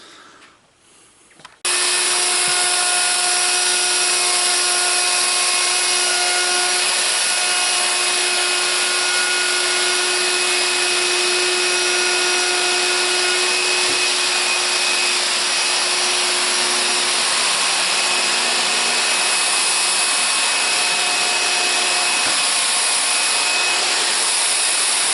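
Router bit cutting a wide groove in wood during a workbench upgrade, starting abruptly after a brief quiet moment and then running as a steady, loud, high-pitched whine for the rest of the clip.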